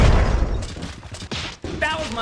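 Explosions in the video game Myth: The Fallen Lords, a dense burst of booming blasts at first that thins into scattered, sharper bangs as the battle continues.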